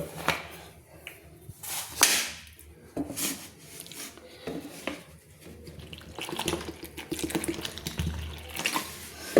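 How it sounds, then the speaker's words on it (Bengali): Water poured from a tap into a bowl of gram flour, rice flour and salt for cauliflower pakora batter, trickling and splashing in intermittent bursts close by, with no talking. "এবার আমি দিয়ে দিচ্ছি জল।"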